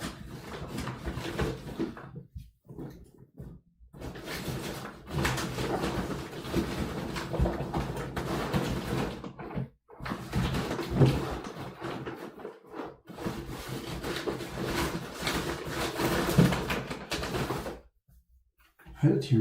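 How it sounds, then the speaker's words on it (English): Someone rummages through a drawer hunting for a USB keyboard, with continuous clattering, sliding and scraping of objects, broken by brief silent pauses and a sharper knock near the end. "Why did I put it into the drawer?"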